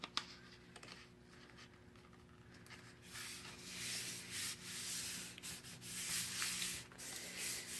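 Firm rubbing across a freshly glued book cover during hand binding, a dry, papery scraping that starts after three seconds and continues in uneven strokes, close and fairly quiet, with a steady low hum beneath.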